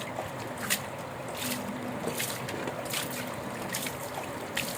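A clay mud pot being rinsed with water, close soft sloshing and trickling with intermittent splashes of water poured over and scrubbed around the pot.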